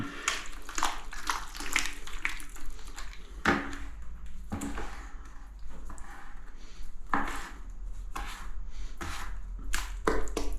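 Old-school mud mortar for bedding tiles is stirred up, giving repeated wet scraping and sloshing strokes with uneven rhythm, close and fairly loud, with no talk.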